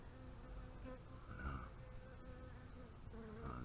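Bees flying in and out of an empty top bar hive in August, a close, steady buzzing of many insects with individual wingbeat tones passing by, no talking.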